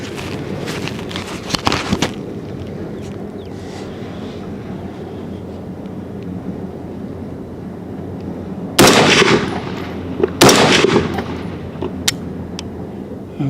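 Ruger SFAR .308 rifle at an outdoor shooting range: a few sharp, loud gunshot cracks, with an early cluster near the start and two strong reports spaced later, between stretches of quiet outdoor ambience and no talking.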